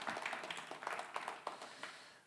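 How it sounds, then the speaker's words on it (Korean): Faint scattered clapping from a small church congregation during a Sunday service, a short burst of uneven claps heard from a distance. "격려의 박수 한번 보내주시면 좋겠습니다"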